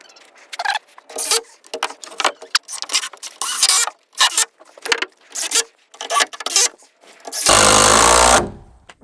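A pneumatic nail gun fires as it is put back to work on a solar power shed roof, a run of sharp separate bursts in uneven rhythm, ending with a longer loud broadband blast like compressed air rushing out.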